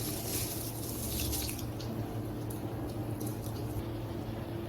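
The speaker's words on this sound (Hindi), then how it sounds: "पानी में अच्छे से बॉयल आ चुका है। अब हम इसमें राइस ऐड करेंगे।" Rice that had soaked for three hours tipped into a pot of fully boiling water for mutton Banu pulao, giving a steady close bubbling and splashing wash with no talk.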